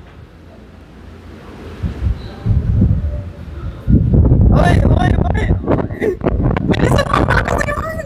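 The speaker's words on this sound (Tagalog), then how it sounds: "malakas na yung hangin" Strong typhoon wind buffets the microphone in loud, rumbling gusts that grow heavier halfway through, with a shouted voice and brief speech over the roar.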